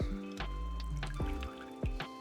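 Fresh basil leaves are swished in hot water to blanch for a pesto, giving soft liquid splashes and trickles in short bursts, with a low background hum underneath.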